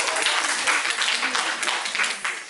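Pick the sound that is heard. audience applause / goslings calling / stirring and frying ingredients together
audience applause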